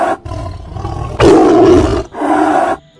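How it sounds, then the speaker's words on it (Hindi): A lion lets out a loud, close roar in a children's story about a lion and a cow, a deep growling blast swelling in the middle before a second shorter roar and a quick fade. "एक तेज दहाड़ लगाई"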